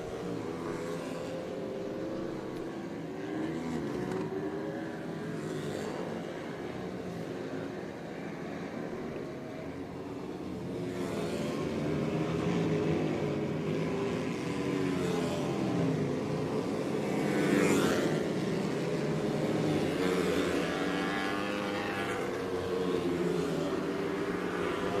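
Super Twins flat track motorcycles lapping a half-mile dirt oval during practice at Charlotte, a continuous roar of multiple engines from a distance that swells louder as bikes pass, with a steady crowd-like wash underneath.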